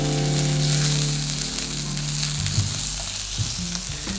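Duck pieces fry with lemongrass stalks in a pan, a steady loud sizzle broken by scraping stir strokes and clatters toward the end, with no voices.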